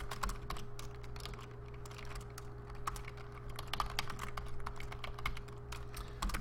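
Fast typing on a computer keyboard, with rapid, steady clicking keystrokes close by over a low constant electrical hum.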